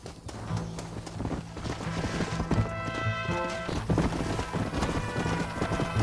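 Horse hooves clip-clop steadily at a gallop in the Red Dead Redemption video game, a fairly loud rhythmic beat layered over game music and ambient noise.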